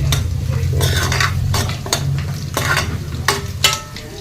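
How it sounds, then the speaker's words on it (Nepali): Meat fries in a pan over a low, steady sizzle, with a utensil stirring and scraping against the metal in repeated bursts. "यहाँ पनि मासु फ्राई गर्दैछ"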